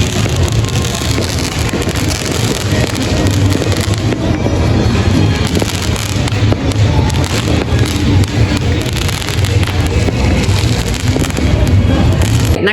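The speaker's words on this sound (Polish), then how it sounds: "W grudniu w Medellin fajerwerki są wystrzeliwane każdego dnia." Loud, continuous crackling and booming of many fireworks going off in Medellín, Colombia, in December, with rumbling bursts and wind buffeting the microphone throughout.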